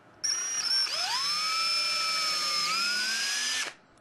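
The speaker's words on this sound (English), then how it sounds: "Drill the first one, skip one, drill the second one" A power drill whirs at high speed for about three seconds while drilling a hole in leather, its pitch dipping slightly as the bit bites in, then spinning down abruptly.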